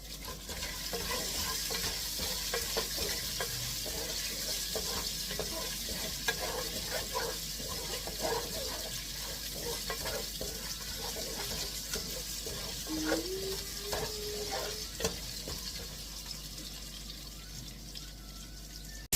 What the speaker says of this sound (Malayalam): നമ്മൾ സവോളം കൂടി ഇട്ടിട്ടുണ്ട് കണ്ട ഇത് വഴണ്ട് വന്നിട്ടുണ്ട്